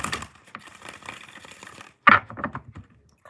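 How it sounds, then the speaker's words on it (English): Tarot cards shuffle by hand, a soft riffling patter followed by a sharper snap and a few quick taps as the deck is squared, close and alone with no voices. "Kind of want to shuffle one more time."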